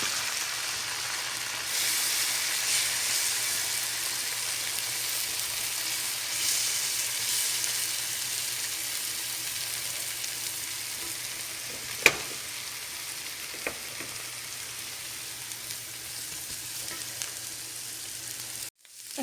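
Egg and vegetable mixture stir-frying in a pan for stuffed capsicum, a steady soft sizzle with faint occasional clicks of a utensil, quiet and continuous throughout.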